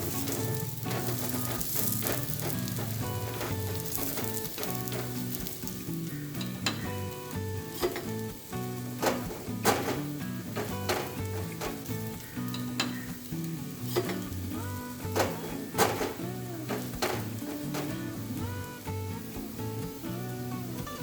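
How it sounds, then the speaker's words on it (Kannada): Ragi roti fries in oil on a pan with a steady, close sizzling crackle that continues throughout, while faint tonal background music plays beneath it. "ನೋಡಿ, ರೊಟ್ಟಿ ಬೇಯ್ತಾ ಇದೆ."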